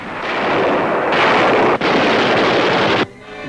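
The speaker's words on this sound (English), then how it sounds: "Guns, camouflaged in nearby fields," WWII artillery guns in the Battle of Tunisia fire and strike a target, heard as loud, sustained roaring blasts with a sharp break midway, ending in a sudden cutoff into quieter rumble, with no speech.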